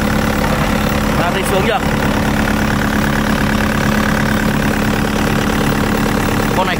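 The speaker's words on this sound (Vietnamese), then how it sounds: "Và các bác nghe tiếng động cơ." Hitachi ZX55UR-3 compact excavator from 2015 idling nearby, a steady continuous engine drone throughout, with a person briefly speaking over it.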